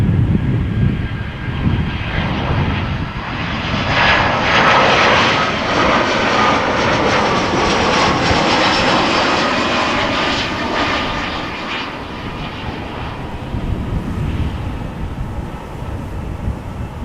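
Airliner on approach to land at Amsterdam Schiphol Airport, a loud, steady jet engine roar that swells and holds through the middle before easing slightly, with no talk.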